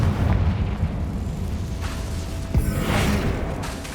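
Confringo blasting spell in Hogwarts Legacy bursting with a loud close explosion, a rumbling boom and crackle, then a sharp second burst and debris near the end of the short stretch.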